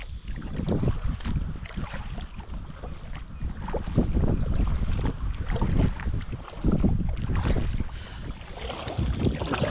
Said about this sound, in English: Just paddling against a slight headwind.